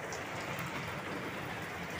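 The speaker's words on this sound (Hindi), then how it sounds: "बहुत ज़्यादा बारिश हो रही है यार, बहुत ज़्यादा बारिश हो रही है" Heavy, sudden downpour on a rooftop, a dense, unbroken roar of rain hitting surfaces, loud and close with no pauses.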